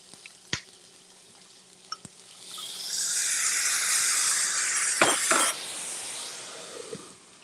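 Steam hisses as a pan holding a little water and baby broccoli with an Asian-style seasoning comes off the heat, a broad, loud sizzling rush lasting several seconds between a few sharp clicks and clanks.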